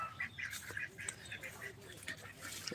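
Domestic ducks kept at a rural home give a run of repeated nasal quacks and honks, moderately close, in irregular bursts over faint background noise.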